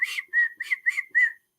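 A person whistles five short, clear notes in a bouncy, evenly spaced rhythm, close and alone with no talk.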